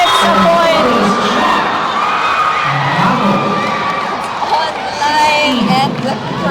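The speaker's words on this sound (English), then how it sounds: "the crowd is loving it" A volleyball championship crowd cheers and shouts after a point, loud sustained roaring with whoops and children's yells, a commentator's voice running over the noise.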